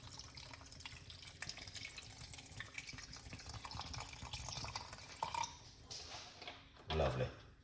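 Natural coconut water being poured into pomegranate seed juice, a soft continuous trickle under talking, followed by a couple of brief louder splashes or clinks near the end.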